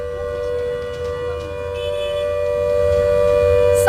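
A civil defense siren sounds during a mock drill, a sustained steady wailing tone over a low rumble, gradually swelling louder toward the end.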